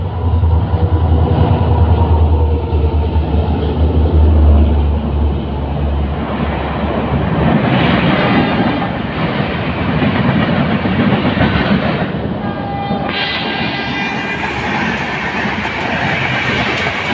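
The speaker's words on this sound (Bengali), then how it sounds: "কুচবিহার স্টেশন দিয়ে এখন ট্রেনটি ক্রস করে চলে যাবে" The Uttarbanga Express rolls through Cooch Behar station on the recently electrified Bamanhat line. Its deep, continuous rumble and wheel clatter are close and loud the whole time, with a faint horn near the end.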